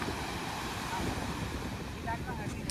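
Sea waves at Malvan beach wash in as a steady rushing surf mixed with wind buffeting the microphone, with faint voices in the background.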